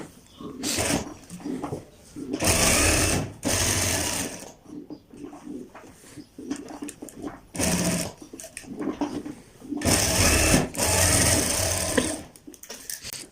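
A sewing machine stitches the button placket of a child's kurta, whirring in loud close bursts of a second or two separated by pauses, with faint handling in the gaps.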